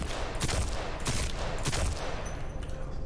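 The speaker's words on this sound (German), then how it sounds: "wir machen jetzt mal hier einen Schuss" Gunfire in the battle royale video game Apex Legends, several loud bursts of shots with sharp cracks spaced about half a second apart over a steady background, no talking.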